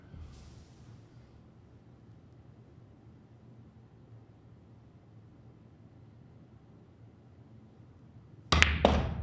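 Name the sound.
pool break shot hitting the high cue ball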